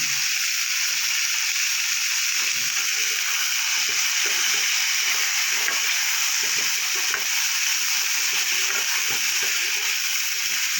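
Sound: potato and bitter gourd frying with salt and turmeric

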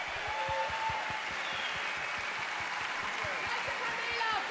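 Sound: festival audience applause for Detlef

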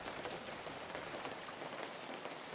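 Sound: rain sound in a fishing video game

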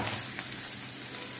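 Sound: paneer frying in pan

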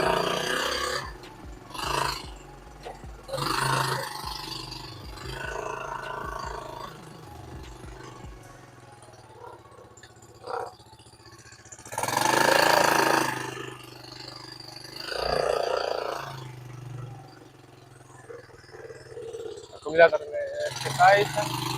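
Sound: engine revving of a vehicle that stood in a yard two years

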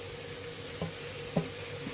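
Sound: chopped tomatoes added to frying pan, sizzling

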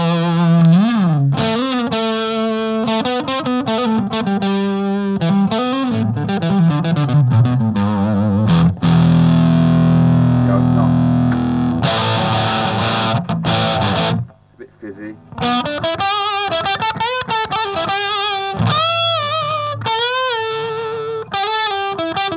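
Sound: Alden Bluesline ZE electric guitar played through distortion

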